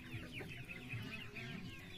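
Turkeys and guinea fowl being fed palay, their quiet clucking and chattering calls repeating close by in a soft, continuous flock murmur.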